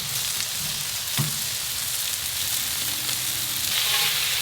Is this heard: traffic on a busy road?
no